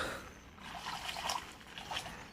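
Water trickles and dribbles into a traditional Konkan fishing boat, a soft, continuous close-up patter with small splashy bursts, heard alone without talk.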